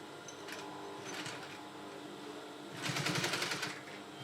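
Sewing machine stitching a senator lapel, short mechanical bursts of rapid needle clatter separated by pauses, with a longer steady run near the end, close and fairly quiet.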